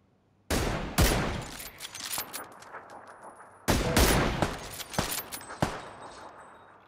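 Gunfire in PUBG: Battlegrounds: two loud volleys of rapid shots, the first at the start and the second a few seconds later, each trailing into scattered single cracks and echoing tails, with no voices.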